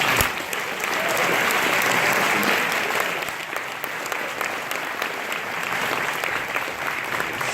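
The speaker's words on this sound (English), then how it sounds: "Can we give another round of applause for Vitalik?" Conference audience giving a lecture speaker a sustained round of applause, dense steady clapping that swells early and then holds at a slightly lower level to the end.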